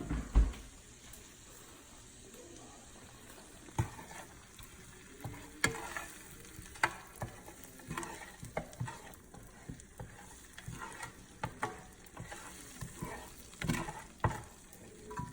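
Salmon fries in a pan with garlic butter, giving a steady soft sizzle all the way through. Occasional sharp clicks and taps sound as it is stirred or moved, fairly close.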